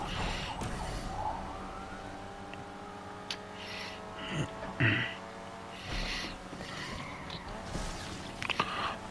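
Police siren wailing during a chase in Need for Speed Unbound, a steady rising and falling tone held under engine noise and game effects, with a few sharp clicks and bumps along the way.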